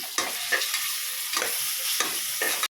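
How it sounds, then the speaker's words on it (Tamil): Onions and ginger paste sizzle steadily in hot oil while a utensil stirs and scrapes the pan in a few distinct bursts, close and fairly loud. "சேர்த்து அதையும் நல்லா எண்ணெயில் வதக்கி கொடுக்கலாம்"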